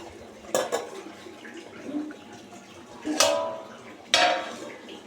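A lid is set down on a simmering pot of curry in a home kitchen, giving sharp metallic clanks and clatters in three distinct bursts over quiet background, close to the listener.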